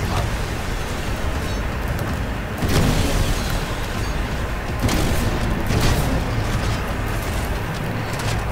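Titan rocket pods firing and bursting in the sci-fi shooter Titanfall 2, a continuous loud rumble of booming blasts with a few heavier explosions rising above a dense roar.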